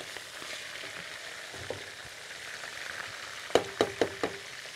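Onions frying in a pan give a soft, continuous sizzle, close and low in level, ending with four quick clinks of a utensil against the pan. Nobody speaks.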